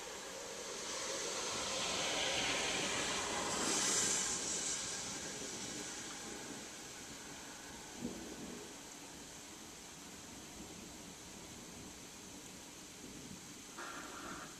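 Rumbling evening thunderstorm with a steady wash of rain and hiss, low thunder swelling around the middle and a faint crack later, heard at a distance without voices.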